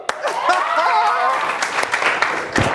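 An audience claps for a singer in a steady burst of applause that lasts throughout, close and fairly loud, with a voice carrying over it.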